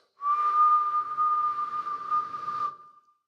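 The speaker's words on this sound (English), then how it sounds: "Try and whistle 1K" A person whistles a steady 1 kHz tone through monitor wedges in a small venue. The note is clear and sustained for about two and a half seconds before it stops, loud and close, with a faint breathy edge.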